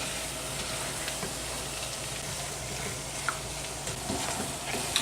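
Chopped clams casino mixture sizzles steadily in a pan, a continuous close frying hiss with a few faint clicks of stirring, and no voices.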